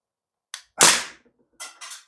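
Three sharp shots from a Crosman A4-P CO2 blowback BB machine gun fired at a target outdoors: one short crack, then a louder ringing report, a pause, and two quicker cracks close together, all near and with no talking.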